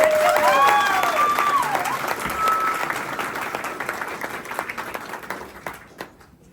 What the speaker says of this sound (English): So round of applause for Anne-Marie.